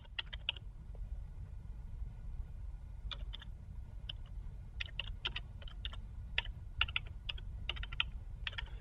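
Computer keyboard typing a command into a Cisco router terminal, light irregular keystroke clicks in short bursts over a low steady hum, close and fairly quiet.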